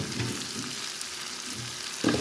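Pumpkin pieces are added to a prawn masala cooking in a pan, giving a soft, low sizzle and frying hiss with some stirring, ending in a louder bump and clatter near the end; quiet and close.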